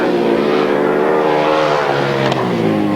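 Grasstrack racing motorcycle engines at a 1993 championship meeting, a loud, continuous revving roar with steady harmonic drone and slight pitch shifts as the bikes power around the track.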